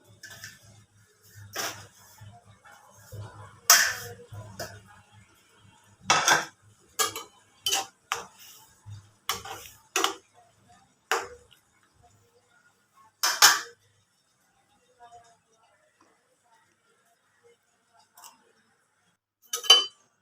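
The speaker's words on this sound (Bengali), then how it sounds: "আমি এদিকে যে মশলাগুলো দিয়ে রান্না করব সেগুলো কাটতে শুরু করছি" A knife chops spices for cooking dried fish on a board, making sharp, close chopping taps in irregular bursts, with gaps of quiet in between and no talking.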